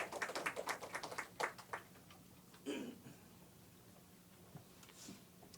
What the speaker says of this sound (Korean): 우리 최 목사님 나오실 때 뜨거운 박수로 환영하겠습니다